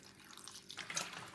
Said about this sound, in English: So we're going to be using some water from the bottle.